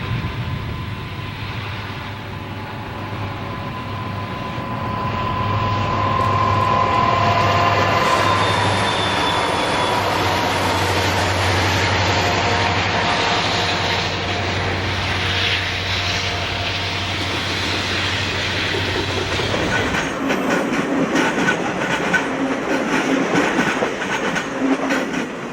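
A Santa Fe westbound freight train led by an SD45U locomotive rumbles past at Christie siding, with a deep steady engine drone that builds and then gives way to rattling, clattering cars, and no talk.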